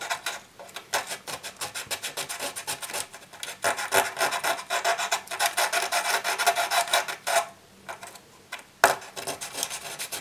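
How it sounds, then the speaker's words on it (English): Sanding the curved side of a model fire escape ladder, a steady run of rapid rasping strokes, close and continuous, with a brief pause near the end before the rubbing resumes. "So I want to sand the sides, I want to sand the curve."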